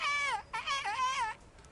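A character in Kingdom Come Deliverance imitates a nightingale's song with his voice, producing three warbling, whistle-like phrases that rise and fall, loud and close, with brief pauses between them.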